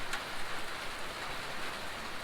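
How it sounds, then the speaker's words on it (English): Steady rain drumming on a tin roof over a small log cabin, a dense, even hiss of drops close overhead, fairly quiet and continuous with no voices. "Listen to the sound of that rain falling on a tin roof indefinitely."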